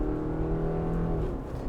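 A 2024 Subaru Forester Touring with a CVT accelerates hard with the pedal floored, its engine holding a steady droning hum heard from inside the cabin, with no voices.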